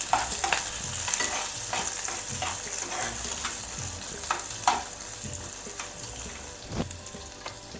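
Onion going into a frying pan of hot oil with green chillies for a hurda breakfast, a loud close sizzle with repeated scraping stir strokes and spatula knocks, no voices.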